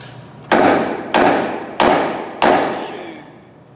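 A hammer strikes the metal body of a dump truck in a shop, four sharp ringing blows evenly spaced about a second apart, each decaying quickly, close and loud with no talk.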